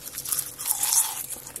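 Close-up crisp crunching as someone bites and chews dry, crunchy deep-fried toon-leaf chips coated in glutinous rice paste, with several quick crackling bursts.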